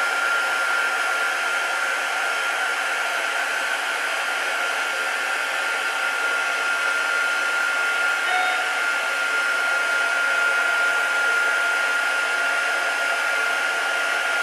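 A heat tool blows hot air to melt silver embossing powder on a papercraft chocolate box, a loud, steady, hissing fan roar like a hair dryer that runs unbroken and close throughout, with no talk.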